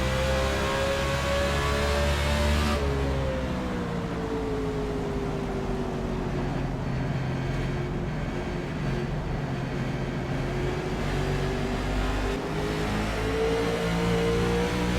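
A loud, steady race car engine drone, heard on board during a stock car race, abruptly drops in pitch as the throttle lifts, then holds a lower hum with wind noise.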